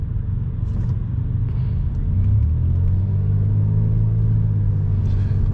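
Slow, crawling traffic on an expressway rumbles past as heard from inside a car, a steady low road drone with a faint engine swell near the middle and no voices.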